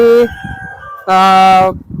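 Kaveri breed parent-stock chickens at a poultry farm hatchery crow loudly twice in close succession, each a long harmonic call, with softer clucking and barn noise between them.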